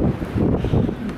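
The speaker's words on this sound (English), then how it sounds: "it's windy" Strong headwind buffeting a microphone while cycling on an exposed road in Patagonia toward Calafate, a loud, rumbling low roar in continuous gusts with no other sounds.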